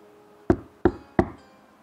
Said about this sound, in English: He came to the first little pig's house and knocked on the door.